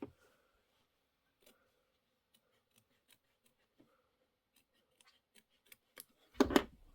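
Scissors trim quilting fabric with a few faint, scattered snips, then a louder burst of close cutting and rustling near the end, in an otherwise quiet room.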